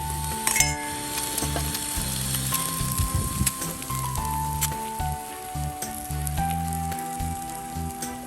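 Eggs sizzle and crackle steadily in a hot pan at a campsite in Suan Phueng, Ratchaburi, Thailand, a constant close frying hiss with occasional light clinks of a utensil.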